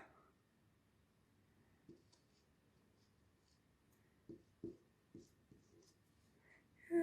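Pen strokes on paper come in a few short, faint scratches and taps, spaced irregularly across an otherwise quiet indoor moment, with no clear talk.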